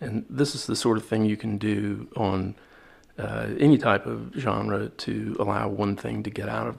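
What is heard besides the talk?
No everyday noise stands out behind the speech.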